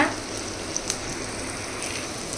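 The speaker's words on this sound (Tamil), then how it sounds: "எல்லா சின்ன வெங்காயம் போட்டுருங்க. அப்புறம் பூண்டு போட்டுருங்க. எல்லாத்தையும் எல்லாம் வதக்கி விட்டுக்கோங்க." Shallots and garlic sautéing in a pan for a chicken gravy, giving a steady soft sizzle and crackle throughout, with a couple of brief clicks, close and fairly quiet, no voices.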